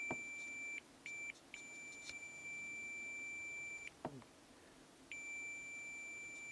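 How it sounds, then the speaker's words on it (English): Continuity beeps from an ohmmeter testing door wiring on a Dodge Ram: a steady high tone sounding in several stretches, some short and broken, one long, with brief gaps, fairly clear over a low background hum. "I'm coming in with an ohmmeter that when it's at 0, right, it buzzes."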